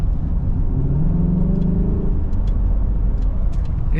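A Nissan GT-R engine with a modified air intake hums steadily from inside the cabin, a loud low rumble with a slight rising whine as it accelerates.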